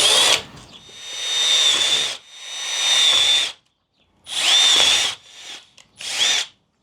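A power drill whirs in four separate bursts while drilling pilot holes in custom mud flaps, each a high whine lasting one to two seconds, with short pauses between them.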